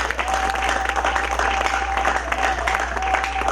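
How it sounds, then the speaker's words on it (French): A church congregation breaks into steady, loud applause, sustained clapping from a crowd filling the room for the whole stretch, with a faint tone and murmur underneath. "Est-ce que tu peux lui donner une très bonne main d'acclamation?"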